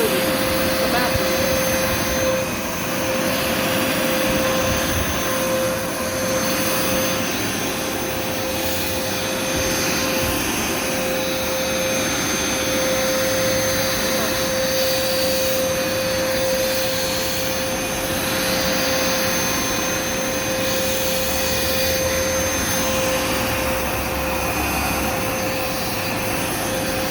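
A Hoover Smartwash carpet washer runs continuously on carpet with a loud, steady motor whine and suction roar, plus a high whistling tone, and voices faintly in the background.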